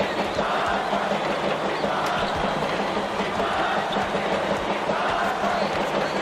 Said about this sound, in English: We got a full house today. This crowd is ecstatic.